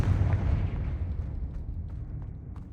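A Confringo blasting spell goes off in a video game, giving a loud low boom that decays into a rumbling tail over a few seconds, with faint sharp crackles scattered through the fade.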